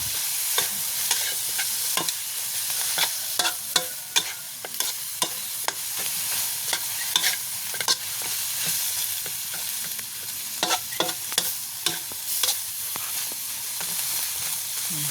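Spicy chicken with pickled bamboo shoots stir-fries over a wood or charcoal stove. A steady sizzle runs throughout, with frequent sharp scrapes and clacks of the spatula against the pan, all close and with no voices.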